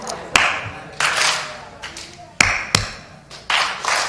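Scattered sharp claps ring out in a synagogue Shabbat gathering, a few single loud hand claps answered by brief bursts of group clapping, with talk in between.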